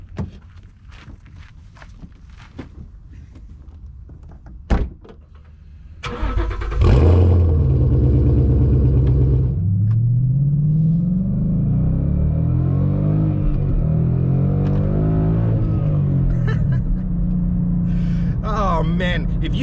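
A Ford Mustang engine cranks and fires up, settling into a loud, steady, deep rumbling idle that holds for several seconds after a brief lead-in of handling noises.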